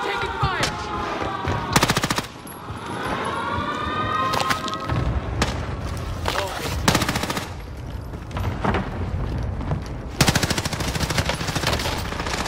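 Rapid automatic gunfire in a Call of Duty Warzone match: close bursts and scattered shots throughout, with a siren-like whine and distant shots in between, and a long sustained burst at the end.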